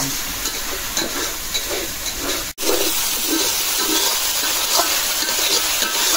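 Curry spices for a chicken and pumpkin dish fry in hot oil with a loud, close, steady sizzle and hiss, broken by one brief drop near the middle, with no talking.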